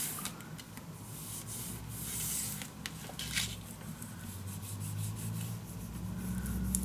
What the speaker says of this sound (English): Always take your time to burnish your glue down.